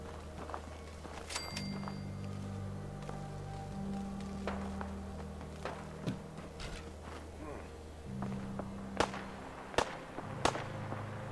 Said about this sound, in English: There's the gunfire.